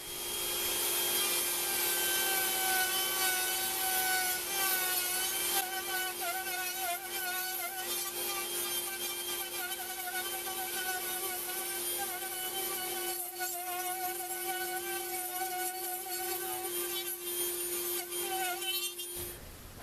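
A router cuts into a wooden copy of a rotary phone, giving a steady high motor whine mixed with rough scraping and rasping from the wood being carved, close and continuous with no talk.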